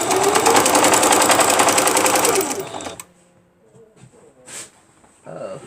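A sewing machine stitches through a finished Maple Leaf quilt in a fast, steady whir for about two and a half seconds, then stops, leaving quiet handling noises and faint clicks.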